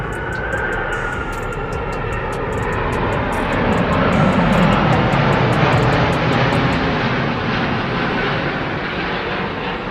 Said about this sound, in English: Watching these massive aircraft maneuver in such tight proximity is a testament to the pilot's expertise